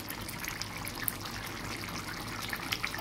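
Curry bubbling in a pan over a gas flame turned up high, a faint, steady simmer with soft popping bubbles and no talk.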